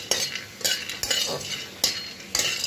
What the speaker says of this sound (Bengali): মশলাগুলো আস্তে আস্তেই ভাজতে হবে